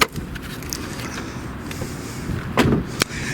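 The forward-hinged hood of a Jaguar XK8 with a 4.2-liter AJ V8 is released and lifted: low rumbling handling noise, then a couple of sharp latch clunks and a thump toward the end, fairly close.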